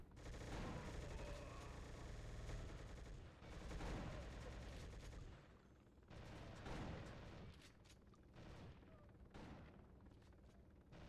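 Video game gunfire in rapid bursts, dense automatic rattling with heavy booms, loud and continuous with brief lulls, over roughly eleven seconds without talk.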